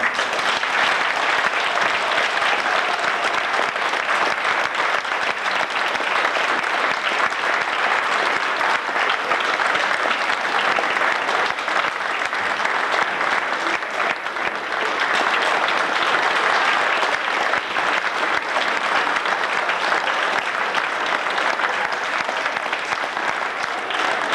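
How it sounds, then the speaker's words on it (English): A school audience gives sustained applause as a grade 7 graduating class files in, a dense, even roar of clapping that holds steady and loud throughout. "Could we begin our celebration of our grade 7 class by giving them a round of applause as they come on in."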